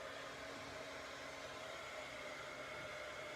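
A handheld heat gun used as an embossing tool for sign making runs with a steady, fairly quiet blowing hiss and fan whir, unchanging throughout.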